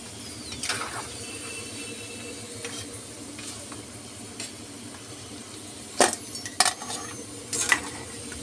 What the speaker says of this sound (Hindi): अब इनको हम फ्राई होने देते हैं अच्छी तरह से।